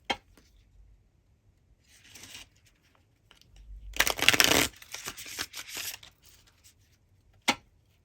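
A tarot card deck is shuffled close by in a few separate bursts of papery riffling and flicking. The loudest run comes in the middle, and a single sharp snap follows near the end.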